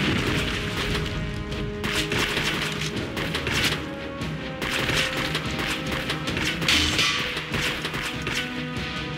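Grenade fire and explosions in the video game Damnation: a dense run of loud crashing blasts and heavy thuds, close and continuous, with booming impacts rising and falling over several seconds and no talking.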